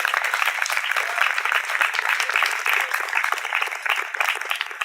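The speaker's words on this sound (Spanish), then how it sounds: "aprovecha para dar un aplauso a Dios por su abundante gracia" A church congregation breaks into sustained applause, a dense, even wash of many hands clapping together at moderate loudness, holding steady throughout without a break.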